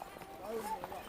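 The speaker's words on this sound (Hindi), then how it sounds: "सिर्फ घोड़े ही घोड़े।" Horses walk along a mountain trail to Kedarnath, a faint clip-clop of hooves mixed with quiet voices in the background.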